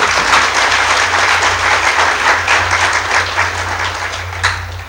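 A large audience at a speech gathering claps loudly for an honored guest, a dense, sustained wave of applause that holds steady before easing slightly at the end.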